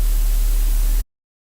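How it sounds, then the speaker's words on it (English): A loud, steady hiss of white noise from a synth in Ableton with a low hum underneath, holding for about a second before cutting off abruptly into silence. "So let's do a white noise."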